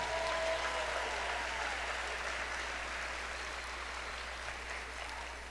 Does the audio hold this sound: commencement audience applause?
yes